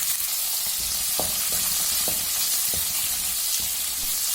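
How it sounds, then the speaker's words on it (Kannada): Hustikai chutney ingredients fry in a pan, giving a steady close sizzle with occasional soft scraping stir knocks, and no talking. "ಹಸಿ ವಾಸನೆ ಹೋಗೋ ತನಕ ಚೆನ್ನಾಗಿ ಫ್ರೈ ಮಾಡ್ಕೋಬೇಕು."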